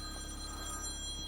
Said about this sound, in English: That was my phone on holiday.